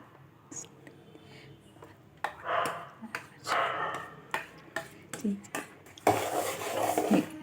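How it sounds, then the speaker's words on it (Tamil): Thick aval (flattened rice) idli batter being stirred in a bowl, with scraping and knocking of a utensil against the sides in uneven bursts, close by. "நல்லா இதில் போட்டு கலந்துடலாங்க"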